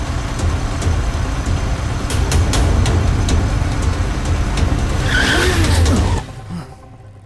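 A car turning hard with tires skidding and squealing, a loud rumbling engine and scraping screech that cuts off abruptly near the end.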